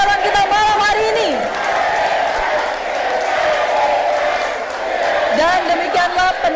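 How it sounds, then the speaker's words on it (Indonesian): An audience at a public screening of a 2024 Cimahi city mayoral election debate cheers and claps loudly after the debate ends, with whoops and crowd noise throughout and voices calling out. "Berikan tepuk tangan paling meriah untuk ketiga pasangan calon kita malam hari ini."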